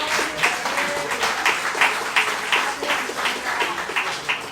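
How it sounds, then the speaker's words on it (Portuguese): A church congregation claps in praise, a fairly close, rhythmic applause with regular pulsing beats that holds steady for several seconds with no voices over it. "Dê uma salva de palmas ao Senhor."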